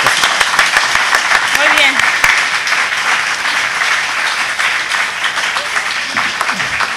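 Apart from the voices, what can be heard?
audience applause after a candidates' debate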